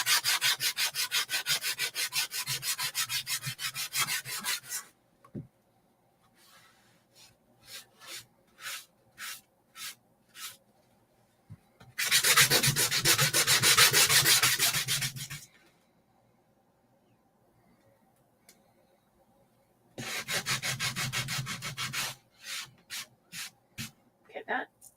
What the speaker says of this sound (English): Once I get done sanding this,